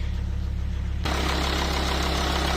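A Volvo V70 car engine idles steadily at close range, a constant low hum that grows slightly louder and rougher partway through, with no talk.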